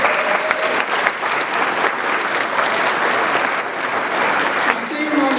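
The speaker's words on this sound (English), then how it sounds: "If we could give them a round of applause." An outdoor crowd at a memorial highway dedication ceremony claps steadily for several seconds, dense close applause with no break.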